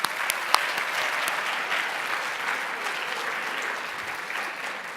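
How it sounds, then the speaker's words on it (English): A large audience at an academic quiz competition gives sustained applause for the teachers, an even wash of many hands clapping throughout, with a few sharper close claps near the start. "So a special round of applause for the teachers."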